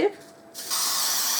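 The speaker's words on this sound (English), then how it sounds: "I'm going to put a slight coating of spray adhesive" Spray adhesive hissing from an aerosol can while coating a paper craft: a short puff, a pause, then a steady, close, bright hiss that holds to the end.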